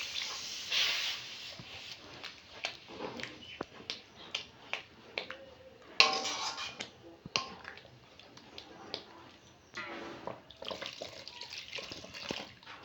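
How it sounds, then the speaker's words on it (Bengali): Katla fish heads fry in a pan, giving off irregular sharp crackles and spitting pops over a soft hiss, some bursts louder and more clustered than others. "বন্ধুরা, মাছের মাথাগুলো ভেজে নেব।"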